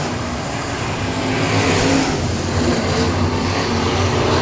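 600 mini sprint race cars at Heart O' Texas Speedway make a loud, continuous engine roar that swells and fades slightly as the pack passes, with no clear gaps between cars.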